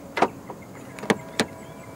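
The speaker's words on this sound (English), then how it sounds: "To lock the car, press the button on the driver's side door handle." A 2023 BYD Atto 3 locks via the keyless button on the driver's door handle, with a few quick mechanical clunks and clicks from the door latches, short and sharp against a quiet background.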